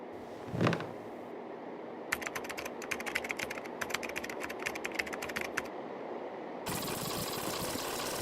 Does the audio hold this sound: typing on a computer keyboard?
yes